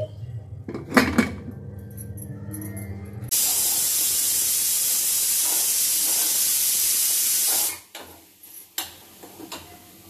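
A rice pressure cooker releases a loud, steady hiss of steam lasting about four seconds, with faint kitchen clatter of utensils before and after.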